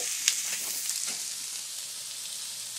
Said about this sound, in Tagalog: Haluin lang po mga kaibigan.